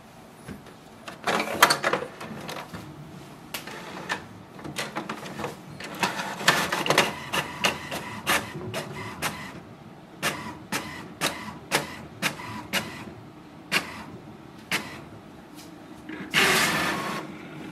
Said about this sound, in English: place your second page for the printing. And click on the copy button.